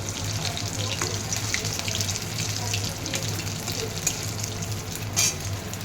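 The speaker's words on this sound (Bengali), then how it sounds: "এখানে কড়াতে তেল গরম হচ্ছে, জাস্ট ভেজে নেব" Fish fry sizzles in hot oil in a wok, a dense, steady crackle and hiss with occasional sharper spits and pops.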